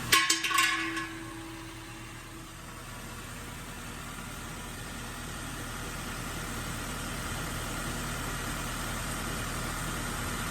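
A Chevy Volt runs during a transmission fluid check with a low, steady engine hum. A short clatter is heard at the start, and then the car idles evenly and fairly quietly.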